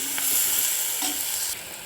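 Chopped onions and green chillies sizzle steadily in hot oil in a pan for a fish polichathu, a close, even frying hiss with a light stir partway through.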